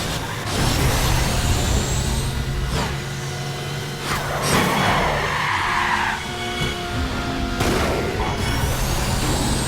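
Cars screech and skid through a crash in the racing game Burnout Revenge, with loud tire squeals, engine roar and metallic impacts running continuously over the whole stretch.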